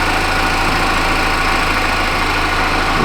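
The engine of a 2014 Chevy Impala idles with a steady, loud, close drone and constant low vibration after a secondary air injection repair, with no talk over it.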